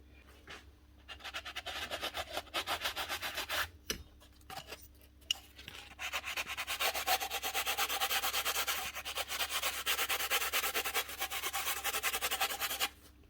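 Steady back-and-forth rasping of a sanding block rubbing carbon buildup off a steel plate on a Paslode nail gun, in rhythmic strokes with brief pauses, close and fairly quiet over a low background hum.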